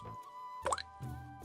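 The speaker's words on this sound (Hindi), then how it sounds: "घर की शांति को भंग करते हुए केवल पीतल के बर्तन में गिरती बूंदों की टिप टिप सुनाई दे रही थी" Rainwater dripping from a leaking roof into a brass vessel in an old house during a steady rain, a single hollow plop ringing out amid soft background music, near and distinct.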